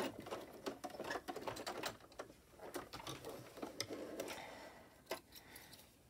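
A sewing machine stitches a seam on an 18-inch doll dress, heard faintly as an uneven run of small ticking stitch pulses and soft handling noises. No one speaks.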